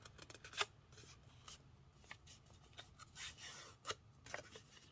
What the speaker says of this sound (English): So let me fold this part of the paper up.